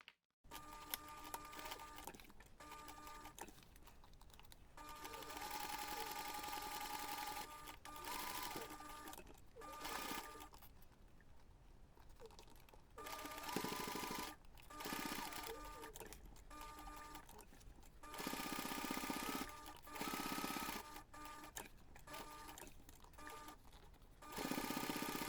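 A sewing machine stitches the corner of a fabric flexi coin pouch, running in several loud, even bursts of rapid stitching separated by short pauses, close and alone.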